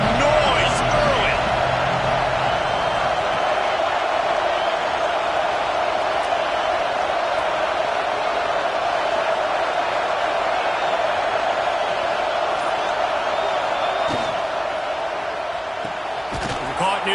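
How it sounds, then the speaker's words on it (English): Stadium crowd in a Vanderbilt vs. Alabama college football video game, a steady, loud roar that holds for the whole stretch with occasional sharp thumps and a swell near the end. "This crowd bringing the energy and noise early."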